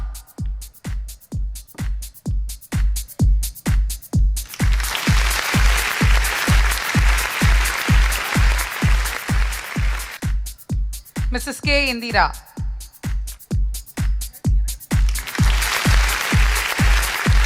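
Applause rises for long-serving senior employees of Vijay Marie Hospital and Institution at a jubilee celebration, two sustained waves of clapping over a steady rhythmic pulse while a voice announces honorees' names.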